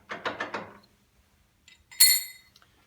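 A lathe or similar machine tool turning at its lowest speed while a nut on the chuck is loosened, giving a few soft mechanical clicks and clinks, then a short bright metallic burst near the end.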